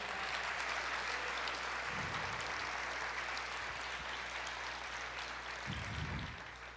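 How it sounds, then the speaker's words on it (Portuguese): Steady applause from a church congregation praising God during a sermon, a dense, continuous wash of clapping that holds evenly for several seconds before easing off slightly at the end. "aplauda o Senhor"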